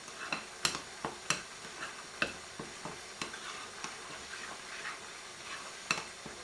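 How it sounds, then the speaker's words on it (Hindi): Chicken biryani being stirred in a pot: soft, faint scrapes and light clinks of a spoon against metal at an irregular rhythm over a low background hiss, with no voices. "अच्छी तरह इसको मिक्स करेंगे"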